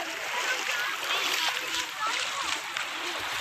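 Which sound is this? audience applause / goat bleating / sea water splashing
sea water splashing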